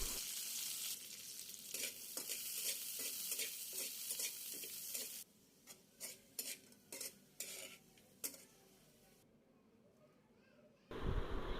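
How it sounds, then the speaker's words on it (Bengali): Nuts fried in ghee in a pan sizzle steadily while a spatula scrapes and taps against the metal in irregular strokes, close and quiet, then quieter with sparse clinks before the sizzle returns. "কিছু বাদাম আমি ভেজে উঠিয়ে রাখবো।"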